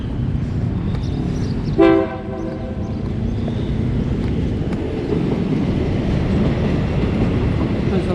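A train rumbles through a large Bangkok station, with a brief horn toot near the start over a steady low rolling roar.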